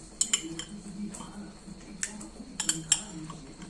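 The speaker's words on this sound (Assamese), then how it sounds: "এতিয়া এটা পাত্ৰ লৈছোঁ, ইয়াত মই দৈ দিম।" A spoon scrapes and clinks against a bowl while yogurt is spooned in, giving several sharp metallic taps spread irregularly over a few seconds with quiet soft handling between them.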